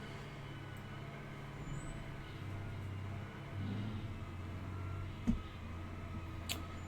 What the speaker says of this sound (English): Sounds like a huge truck.